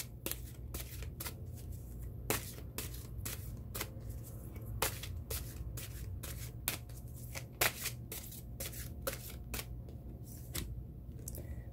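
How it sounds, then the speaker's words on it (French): An oracle card deck is handled while a card is drawn, giving a steady run of crisp papery snaps and flicks up close, quiet and continuous with no voice. "Et je vais tirer une 3e et dernière carte"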